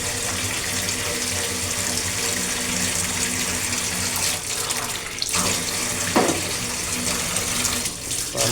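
Water runs steadily from a kitchen tap during washing while food is being prepared, a loud continuous rushing splash with occasional faint clinks.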